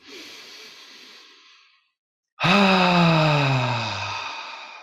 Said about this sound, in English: We're going to breathe in through the nose.